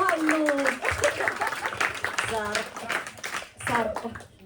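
A live improv comedy audience breaks into clapping and cheering while a host talks excitedly over it. The crowd noise comes in bursts that swell and fade, with voices prominent throughout.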